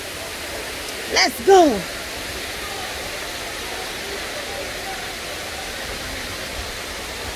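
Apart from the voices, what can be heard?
Dunns River Falls waterfall in Ocho Rios, Jamaica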